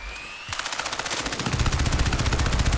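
A weapon with heavy recoil in the Crysis 3 multiplayer beta fires a rapid automatic burst, close and punchy, with sharp regular shots that thicken into a heavier, booming stream partway through after a brief quiet opening.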